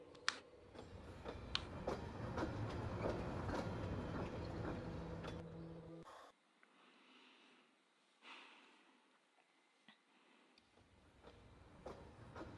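A train rolls along in the video game Pathologic 2, with rumbling wheels and rhythmic clacks. Low machinery drones through the first half, then drops away to a quieter interior with scattered knocks and creaks.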